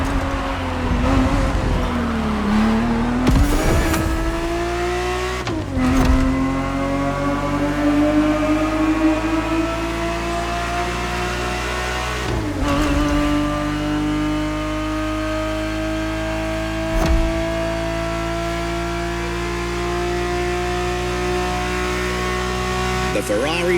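A Ferrari 365 GTB4 racing in The Crew Motorfest revs hard and climbs through several gear changes, its engine note rising and dropping back with each shift, loud and close throughout.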